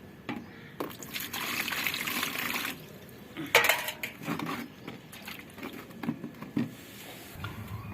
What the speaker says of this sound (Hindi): आप ये 1 लीटर पानी मिला लो।